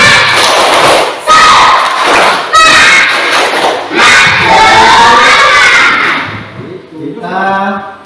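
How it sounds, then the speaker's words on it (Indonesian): A classroom of schoolchildren claps together in a loud, rhythmic group cheer, with bursts of shouting and thumping between clap sequences, the sound crowded and close. "Coba tepuk semangat dulu."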